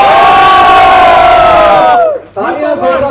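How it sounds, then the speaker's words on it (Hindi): A crowd at the inauguration of a children's play arena cheers loudly, a sustained roar of shouting voices that dips for a moment and then surges back up. "जोरदार तालियां हो जाए।"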